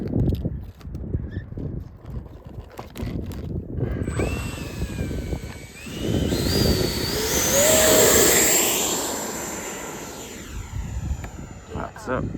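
An FMS 70mm Viper RC jet with afterburner whines past with a rising turbine pitch and a swelling roar, louder as it passes near and then fading, while people talk over it.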